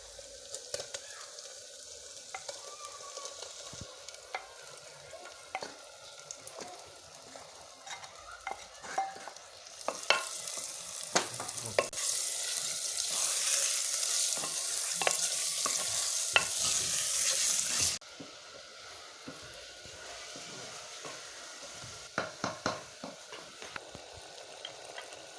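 Boneless chicken fries in a handi pot while a utensil stirs and scrapes it, giving a soft crackling sizzle with repeated scraping clicks that swell into a louder, steady hiss midway, then settle back to quieter stirring, close up and without voices.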